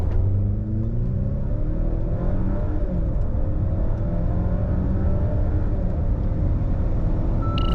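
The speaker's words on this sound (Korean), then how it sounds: "가속 성능을 한번 볼까요?" A Volvo XC90 accelerating hard in a straight-line test, its engine note rising steadily as a loud, continuous rumble and whir with road noise, heard alone with no talk.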